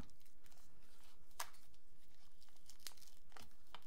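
Wrapper of a 495-gram Kunafé pistachio milk chocolate Dubai bar being torn open, with sharp crinkling rips in a few quick bursts over faint background hiss, no talking.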